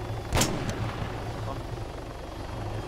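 Helicopter landing close by, loud rotor chop and engine roar continuing throughout, with a brief sharp burst near the start.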